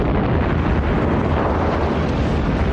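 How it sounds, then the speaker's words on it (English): Heavy rumbling blasts from the Japanese bombing raid on the northern Australian city of Darwin, a dense, loud, continuous roar of explosions with no gaps and no voices. "the Japanese bombed the northern city of Darwin"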